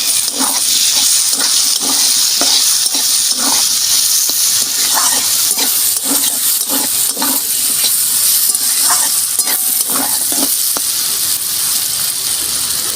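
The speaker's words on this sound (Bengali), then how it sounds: "দেখুন এইভাবে ভেজে নিয়েছি আলু আর কাঁকরোল।" Potato and spiny gourd (kakrol) pieces fry in a pan with a steady, loud sizzle and hiss, while repeated stirring scrapes and taps sound through it; there is no talking.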